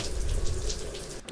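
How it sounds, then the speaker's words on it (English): A shower runs with a steady, close rush of water spraying and splashing, which cuts off abruptly at the end. "remember to shower straight out of bed"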